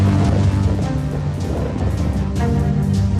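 Cyclone Biparjoy lashes the Gujarat coast with strong wind and heavy rain, a loud, dense roar of gusts and downpour that rises and falls throughout with no speech.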